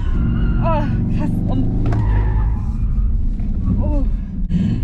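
A Cupra Formentor is driven hard with drifting and launch control. The engine rumbles and revs in rising and falling whines, with people talking over it inside the cabin throughout.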